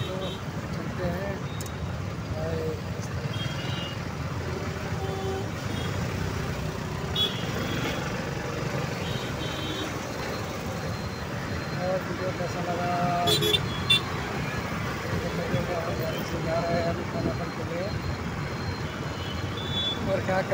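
A vehicle rolls through busy road traffic on the way to a market, with a steady engine and road rumble, occasional horn toots nearby, and faint voices in the background throughout.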